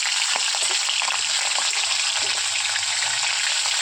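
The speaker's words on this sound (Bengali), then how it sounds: "তো এর মধ্যে আমি এখন দিয়ে দেবো মাছের মাথাগুলোকে।" Fish heads, rubbed with salt and turmeric, hiss and sizzle in hot mustard oil in a wok, a steady bright frying crackle that runs close and unbroken throughout.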